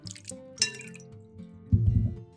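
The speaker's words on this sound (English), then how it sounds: "Now, change the water and rinse the ginger several times until the water is completely clear." Ginger is rinsed in a bowl of water in a kitchen, with faint drips and light sloshing followed by a louder splash of water being stirred or poured. The sound is close and quiet, with no talking.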